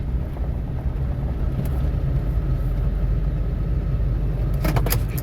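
A vehicle driving on a road and pulling over, a loud steady low rumble of engine and road noise heard from inside, with no speech.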